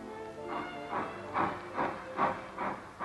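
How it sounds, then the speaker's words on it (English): A freight train pulls away, rhythmic steam chuffs pulsing about twice a second over a low hiss, close and fairly loud. "Here's a freight train pulling out."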